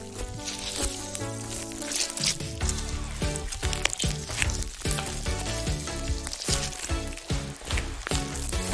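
Sequin- and bead-filled slime being kneaded with both hands gives wet, sticky squishes and crackling pops that repeat in an uneven rhythm, close and fairly loud, with no voices.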